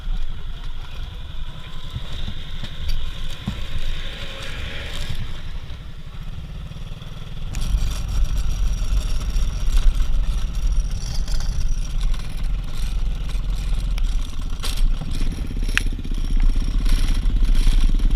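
A motorcycle rumbles close by on a roadside during a rice handout, its low engine noise rising steadily and staying loud through the second half amid scattered clatter.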